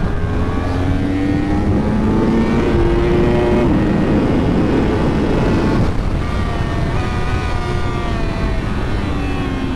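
A car laps a race track on a Thailand trackday, its engine droning loudly and steadily throughout, with rising and falling pitch as it accelerates and shifts, recorded from close inside the cabin.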